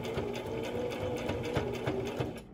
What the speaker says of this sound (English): we're gonna sew about halfway down